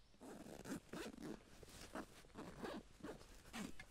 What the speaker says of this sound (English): you do have a larger zipper and zipper track on this main compartment